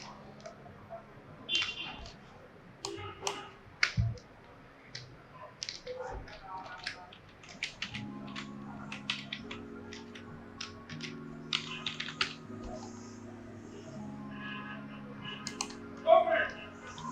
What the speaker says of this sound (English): so I have to type them again.